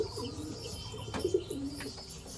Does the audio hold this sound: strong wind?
no